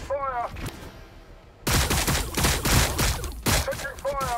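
Bursts of gunfire from the Warhammer 40,000: Battlesector strategy game crackle in a rapid, loud volley that fills most of the stretch, with a person talking briefly before and after.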